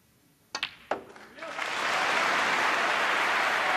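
Applause breaks out at a snooker final for a 71 clearance, led by a couple of sharp claps before swelling into a steady, sustained ripple from the arena crowd.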